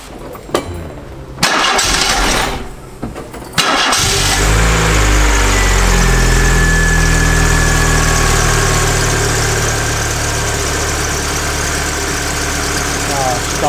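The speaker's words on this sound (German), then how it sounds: "So, ankurbeln, damit meinte Auto starten." A car with a weak battery cranks briefly during a starting test, catches and settles into a loud, steady idle close by, with brief clicks before the start.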